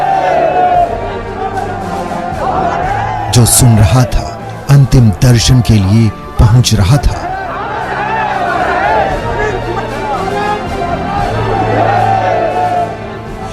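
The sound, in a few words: crowd gathered at a martyr's funeral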